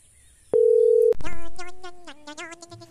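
A phone call tone sounds as a single steady electronic beep, followed by a short rising-and-falling melodic ringback jingle, close and clear with no talking.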